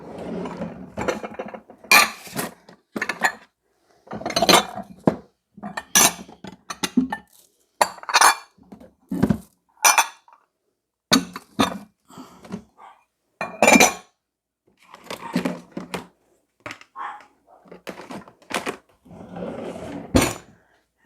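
Dishes and a glass bowl clink and clatter in a home kitchen while a bowl is picked out, with scattered knocks and rattles broken by short pauses.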